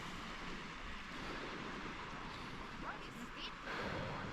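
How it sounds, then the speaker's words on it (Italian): Sea waves wash onto the shore along the Icelandic coast, a steady, fairly loud broadband roar with soft surges, heard over wind buffeting the microphone. "Fa strano sentire il rumore del mare"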